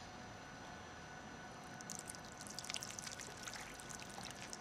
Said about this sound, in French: je vais verser de l'eau pour constater l'effet déperlant